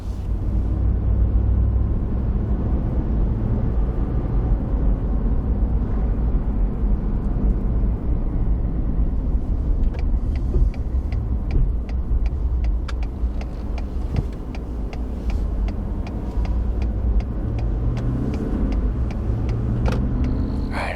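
A car drives toward public hunting land, its interior filled with a steady low road rumble and engine drone throughout, with light rattles and creaks inside the cabin.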